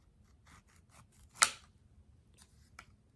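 A knife slices into a soft, ripe persimmon, with a few light scraping cuts and one sharp, louder slicing crunch in the middle, close and otherwise quiet.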